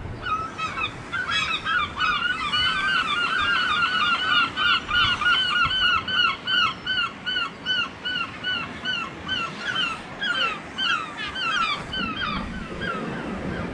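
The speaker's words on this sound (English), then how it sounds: "Seagulls in flight." Seagulls over Tower Beach in Newquay, Cornwall, call in a loud, near, continuous chorus of harsh honking cries, overlapping and repeating rhythmically for the whole stretch over a rumbling shoreline background.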